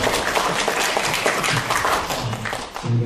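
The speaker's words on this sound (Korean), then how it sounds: "발표해 주신 장욱 스님께 다시 한번 박수" An academic conference audience applauds steadily after a presentation by a Buddhist monk, many hands clapping in a dense, sustained patter that fills the room.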